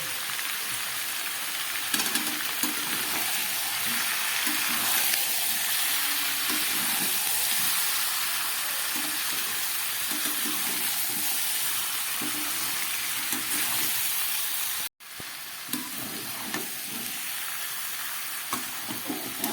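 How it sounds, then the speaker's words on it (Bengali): Coriander powder and ginger paste fry in a pan with a steady close sizzle and hiss, broken by occasional stirring scrapes, with a brief cut near the end. "সমস্ত মশলা দিয়ে আমি খুব ভালো করে একটু ভেজে নিলাম"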